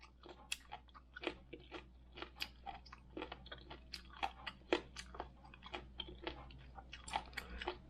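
Seasoned garlic chives being chewed close up, a run of soft moist crunches and bites in an even rhythm over a quiet background with no talking.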